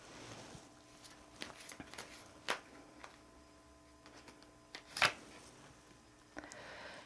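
Tarot cards handled during a reading, with quiet scattered taps and soft riffles, two sharper snaps standing out among faint rustling in a hushed room.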